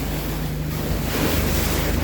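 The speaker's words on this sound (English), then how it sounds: "Outside the entrance now in the open sea." Open sea waves and steady wind heard from a boat outside the entrance of Doubtful Sound, Fiordland, a continuous loud rushing wash with buffeting wind noise on the microphone.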